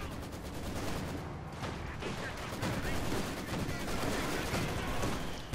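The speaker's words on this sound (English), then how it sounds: "we got Katyusha firing away there. Murderous rocket barrage there against Dezman's positions" A Katyusha rocket barrage fires in the battle game Company of Heroes 2, against enemy positions. Heavy, continuous salvos and blasts roar without pause, loud and dense throughout.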